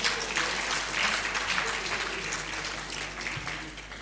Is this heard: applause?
yes